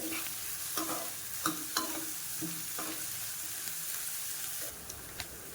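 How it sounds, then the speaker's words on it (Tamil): Onions sizzle in a pan while a utensil stirs and scrapes them in periodic strokes over a constant frying hiss. "இப்போ இதை நல்லா வதக்கிக்கணும் இந்த வெங்காயத்தை வந்து"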